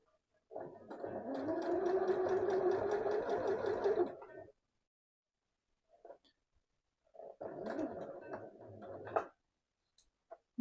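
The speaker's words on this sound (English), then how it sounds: "Little reverse stitch to start, and then I shall sew this sleeve in position." A sewing machine stitches a sleeve into a garment, starting with a short reverse stitch, running steadily for about four seconds, pausing, then whirring again in a second shorter burst, close and alone.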